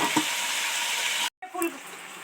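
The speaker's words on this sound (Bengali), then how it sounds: "আস্তে আস্তে ভালো করে ডিপ ফ্রাই করে ভাজতে থাকবো" Cauliflower deep frying in hot oil, a steady loud sizzle that cuts out briefly midway, then resumes with some clinks of a utensil.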